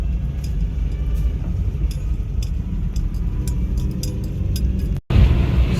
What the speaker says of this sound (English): I'm talking real loud because listen to this wind noise